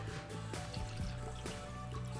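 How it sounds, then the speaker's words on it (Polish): Water pours and splashes softly into a metal baking tray beneath a roasting chicken, a quiet, close trickling with a few small clinks, no speech. "Teraz do środka, do blachy wleję trochę wody"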